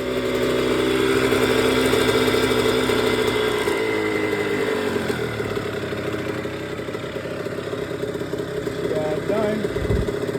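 A dirt bike engine idles steadily after a carburetor cleaning, a loud, continuous mid-pitched drone that settles lower partway through, with a brief blip near the end.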